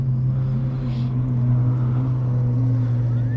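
A steady, droning engine rumble comes from a modified, non-stock exotic sports car at a Las Vegas car meet, loud and constant with a low hum and no talk over it.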